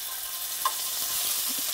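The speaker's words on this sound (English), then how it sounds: "Enough to get that sizzle." Steady crackling sizzle of bánh xèo frying in hot oil, a bright hiss with a few small pops, fairly quiet and close.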